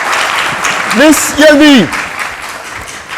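Studio audience applause greets a guest arriving on a French-language café-style talk show, a steady wash of clapping running throughout while a voice speaks briefly over it.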